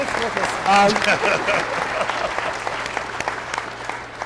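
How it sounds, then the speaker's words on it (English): An audience at a town hall on race breaks into loud applause with steady clapping that slowly fades, while a voice speaks briefly near the start. "Please give them a round of applause."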